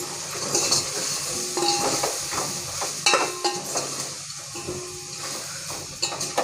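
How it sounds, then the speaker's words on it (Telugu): Chilli powder and coriander powder, added with green chillies, are stirred into a sizzling frying pan for Telangana-style pappucharu: a metal spoon scrapes and clinks against the pan in irregular bursts over a soft, continuous fry, close up, with no voices. "1 స్పూన్ ధనియాల పొడి కలుపుకుందామండి."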